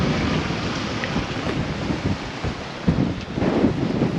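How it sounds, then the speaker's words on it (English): Strong storm winds buffet the microphone on the quay at Southampton, with rain and rough water beneath, a loud gusting roar that surges and dips in uneven bursts. "It's blowing hard."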